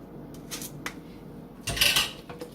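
Rinsed canned black beans tipped into a crockpot, giving a few soft clattering knocks and a brief louder wet slide of beans into the pot, close by.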